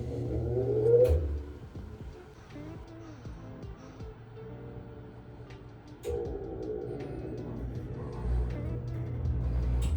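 A wheel balancer spins a Harley-Davidson Electra Glide Ultra Classic wheel, winding up with a rising whir, running steadily for a while, then starting another spin that hums and rumbles close by, with no talking.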